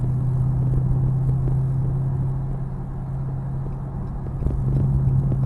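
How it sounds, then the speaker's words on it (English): A Scat Pack muscle car in plum rumbles steadily while driving, a deep continuous engine drone heard from inside the cabin with no music playing, even and sustained throughout. "I love the way this damn car sounds."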